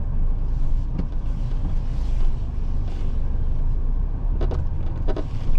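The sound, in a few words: Mahindra Thar Roxx car engine while parking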